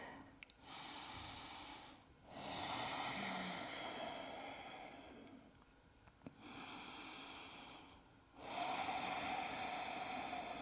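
Deep, slow breathing during a vinyasa yoga flow, long airy inhales and exhales in a steady rhythm of about four breaths over ten seconds, close and soft.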